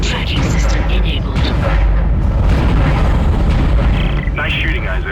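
The Dead Space asteroid defense cannon fires on incoming asteroids, heavy booming blasts and rumbling impacts run loud and continuous, with a voice speaking over them.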